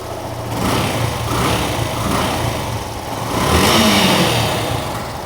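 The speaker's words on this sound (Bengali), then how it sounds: "বাইকটা কিন্তু স্টার্ট করা হয়েছে আর আপনারা সাউন্ডটা শুনতে পাচ্ছেন আশা করি" A Yamaha Fazer V2 FI motorcycle engine runs steadily after starting, a close, continuous low rumble with a slight rise in revs toward the end, with no talking.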